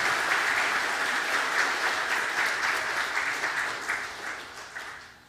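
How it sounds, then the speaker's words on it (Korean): A church congregation claps during a Sunday worship service, a dense, even wave of applause from many people that holds steady and then tapers off toward the end. "여기 앞에 계시는데 박수 한번."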